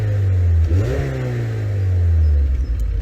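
Mazda MX-5 NC with an aftermarket exhaust, its engine blipped once to a short rev that climbs and falls back to a steady, bassy idle, close and loud with no talking.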